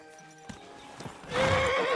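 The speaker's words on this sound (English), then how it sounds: "Watch out with that horse!" A horse in Kingdom Come: Deliverance II snorts, then breaks into a loud, wavering neigh near the end, with hoofbeats and game ambience beneath and no talk over it.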